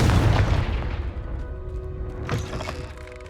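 A Confringo blasting spell goes off in the Hogwarts Legacy video game, a loud, deep boom that opens the clip and decays into a rumbling tail, followed by a softer secondary thump.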